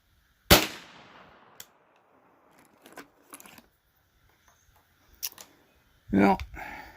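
A .410 shotgun fires a YAF or Barnaul slug outdoors, giving one sharp, loud report with a quickly decaying tail. Scattered quieter clicks and handling noises follow, and a voice speaks near the end.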